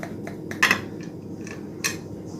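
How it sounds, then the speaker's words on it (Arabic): A knife cuts through a baked spinach and cheese pie on a pan, giving light metallic clinks and scrapes, a couple of sharper taps among quiet gaps, close and fairly soft. "نبدا بقى نقطع ونشوف الفطيره بتاعتنا"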